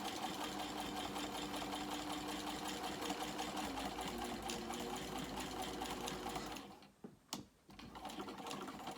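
A domestic sewing machine stitching near a zipper on a small crossbody bag runs in a fast, even mechanical whir for about six and a half seconds, then stops, followed by a couple of sharp clicks and handling noises.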